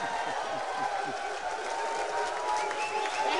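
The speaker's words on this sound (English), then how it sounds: "The crowd is going crazy here." Applause and crowd noise at a professional pool match fill the space as a steady, dense wash of clapping, fairly loud and continuous for a few seconds.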